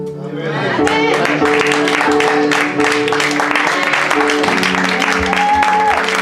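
A church congregation applauds during a sermon, loud dense clapping mixed with sustained musical tones and voices throughout.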